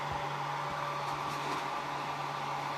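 A hair dryer that seems to be heating less than it used to runs steadily on a higher setting, a constant close whirring blow with a faint electrical hum underneath and no voices.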